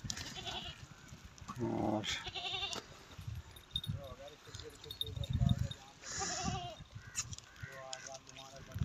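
Pure Beetal and Nagra goats bleating on a goat farm, several short wavering calls from near and farther off, mixed with someone talking and farmyard noise.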